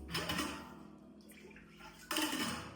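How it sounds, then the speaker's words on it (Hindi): Water is poured into a cooking pot while simlamirch chili and jowar rotla are made at home, giving two splashy, gurgling pours separated by a quieter gap, close to the listener with no talking. "अभी इसमें पानी डालना पड़ेगा"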